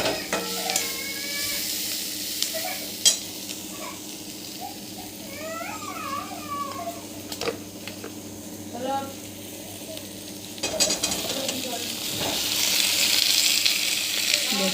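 Potatoes and onions fry in a pan with a steady sizzle and occasional stirring scrapes, with brief chirpy animal-like calls and faint background noise mixed in.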